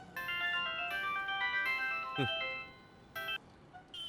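A mobile phone plays a melodic ringtone for an incoming call in a Tamil film scene, the repeated tune fairly soft and steady with a brief sweeping sound partway through.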